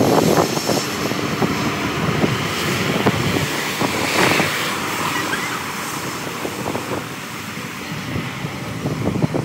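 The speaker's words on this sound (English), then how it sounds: "now it was time to watch airplanes land and even take off as well" A large airplane roars steadily overhead at a beach on St. Maarten, loud, broadband and continuous with some gusty wind buffeting, no voices.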